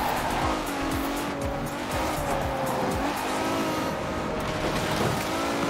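Maserati race car driven in Forza Horizon 4, engine roaring steadily up close with loud tire squeal and skidding throughout, no talk.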